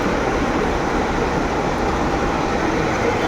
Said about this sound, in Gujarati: આવી રીતના અંડરગ્રાઉન્ડ સ્ટેશન બનાવ્યું છે અને બહુ જ મસ્ત છે.